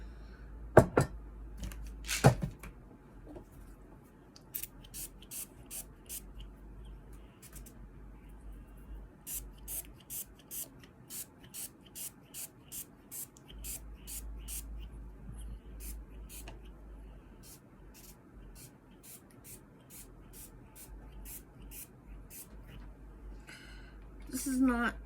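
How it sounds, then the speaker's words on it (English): Repeated short hissing bursts of rubbing alcohol from a spray bottle in quick succession, some in rapid rhythmic runs, with a couple of louder bumps near the start and soft background noise. "This is not body spray."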